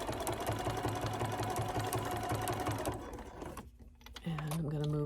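A sewing machine stitches batik cotton in a rapid, steady mechanical whirr for about three seconds, then slows and stops before a low hum resumes, close up with no talking.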